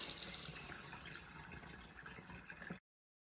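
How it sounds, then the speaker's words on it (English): Water draining down from a domestic gas boiler heating system during a boiler replacement, a steady close rushing and splashing flow that runs without a break and then stops abruptly. "take that cover off the top, start getting it drained down"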